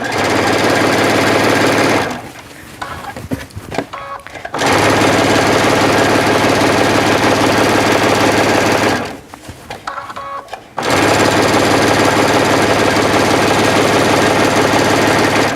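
A sewing machine stitches a decorative hem band about 1/8 inch from a folded edge, using an open-toe presser foot. It runs loud and steady in two long bursts, briefly pausing between them to pivot the fabric.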